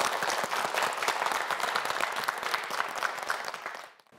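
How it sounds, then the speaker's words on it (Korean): A studio audience at a televised student quiz show breaks into steady, dense applause that stays loud for about four seconds and then quickly dies away. "박수 보내주세요"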